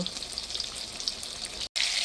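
Fish sizzling in hot oil in a pan, a steady crackling hiss that runs evenly throughout, close and fairly loud. The hiss briefly cuts out near the end, then resumes.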